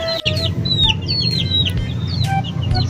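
Young chicks being gathered for a new brood make repeated high chirps and soft clucks over a steady low background hum, several birds calling close by with no talking.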